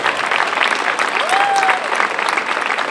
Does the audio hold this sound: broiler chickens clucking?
no